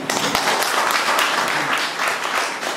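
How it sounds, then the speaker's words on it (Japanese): An audience at a live stage event applauds steadily, dense overlapping clapping at an even level for nearly three seconds, fairly close, with no voices over it. "どうも拍手もありがとうございます"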